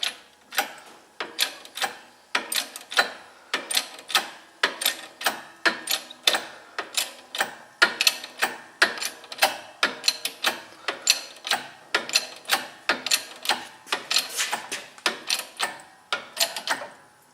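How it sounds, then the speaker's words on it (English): Pressing tool cranked down to drive a dry Mopar upper control arm bushing into place, giving a steady run of sharp, evenly spaced ratcheting clicks close up, with no talk. "we're just going to crank down on that and it's going to push the bush in"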